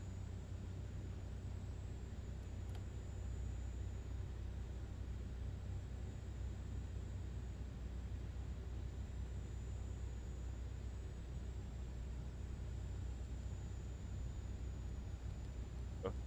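Steady low rumble of an Airbus A400M Atlas taxiing, heard from inside the cockpit, with a constant broadband engine and airframe drone and no talk.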